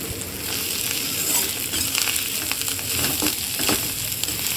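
Mashed teasel gourd fries in a pan with onion and dried chili, giving a close, steady sizzle broken by irregular scraping and pressing sounds from a ladle, with no one speaking.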